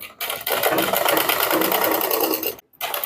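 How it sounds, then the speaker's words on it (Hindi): A sewing machine stitching over piping on a blouse back neck, a fast steady whirring run that stops briefly near the start and again near the end before resuming, close and alone. "पाइपिंग के ऊपर सिलाई लगाएंगे।"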